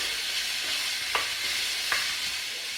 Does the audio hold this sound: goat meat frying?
yes